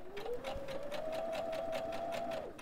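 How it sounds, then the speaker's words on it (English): A Baby Lock Brilliant sewing machine stitching a pocket onto a dress, running in a fast steady needle rhythm with a rising motor whine that holds and then drops off as it stops, close and clear. "and I'll start stitching, and then I am gonna back stitch, just really reinforce those stitches."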